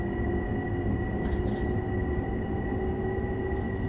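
A commuter train in Train Sim World 3 runs with a steady, loud rumble and constant hum, with faint higher squeals drifting in and out and no voices.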